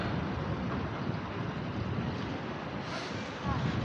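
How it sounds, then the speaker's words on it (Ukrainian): Steady, broad wind rushing and buffeting across the microphone at the Roman gate of hilltop Amelia, Italy, a constant roar with low rumble throughout. "Трошки вітер задуває"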